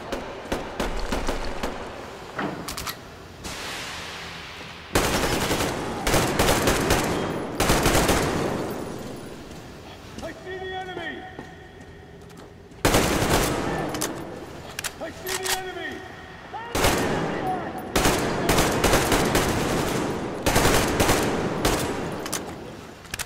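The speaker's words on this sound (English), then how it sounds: "These guns feel so good, although I'm blowing through ammo" Machine gun fire in the video game Metro Exodus, loud bursts of rapid automatic shots repeating in clusters with short gaps, close and sharp, with some lighter clatter between bursts.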